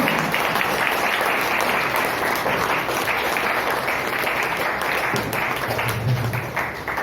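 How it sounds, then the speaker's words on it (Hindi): A standing audience claps loudly and steadily at a monthly celebration program, a dense sustained applause that fills the whole stretch and eases slightly near the end. "आप सब खड़े होकर एक जोरदार ताली बजाएंगे।"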